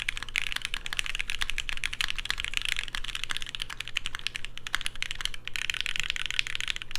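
Rapid continuous typing on a DIY mechanical keyboard whose case has a metallic ping, dense clacking keystrokes close up with no pauses.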